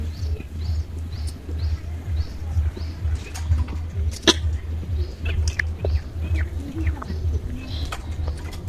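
A caged talking myna bird calls with repeated sharp chirps and whistles over a low, steady background hum, and voice-like chatter runs underneath.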